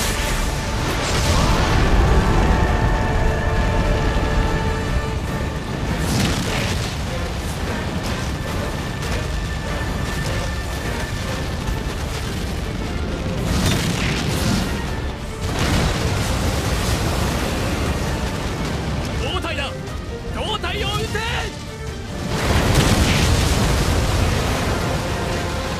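Artillery bombardment explosions in an Attack on Titan video game, a dense run of booming blasts and rumbling bursts that come in repeated waves, loud and close, with brief lulls between volleys.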